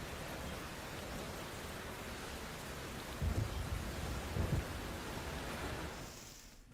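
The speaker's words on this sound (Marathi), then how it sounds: "पुण्यामध्ये मुसळधार पाऊस सुरू आहे." Heavy monsoon rain pours steadily in Pune as a dense, constant hiss, with two low thunder rumbles rolling in near the middle before the sound tapers off at the end.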